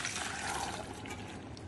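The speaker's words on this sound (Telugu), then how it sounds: "శనగలన్నీ ఆ జాలీలో వేసేస్తే వాటర్ అంతా కిందకి వెళ్ళిపోతుంది" Steady splashing and trickling of water draining from soaked chickpeas through a strainer, a continuous wet rush without pauses.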